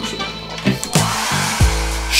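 A hair dryer running at close range, a steady loud whir with a few bumps and shifts in tone as it is moved or switched, no speech.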